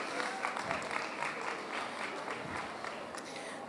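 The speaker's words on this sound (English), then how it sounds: "So let's get a round of applause." An audience at a live women's show event breaks into a dense, steady round of applause from many hands, moderately loud and continuous throughout.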